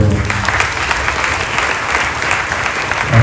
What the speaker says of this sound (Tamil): இந்த ஜோரா கைத்தட்டு